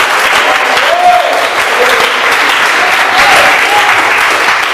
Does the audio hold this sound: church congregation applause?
yes